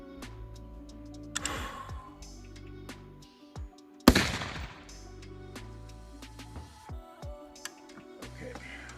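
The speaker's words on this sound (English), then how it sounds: "Let's just shoot this one and see where it ends up at." A single sharp rifle shot from a 5.56/.223 fitted with a Swamp Deer 1.2-6x20 scope cracks out at mid-clip. Faint handling clicks and ticks come before and after it.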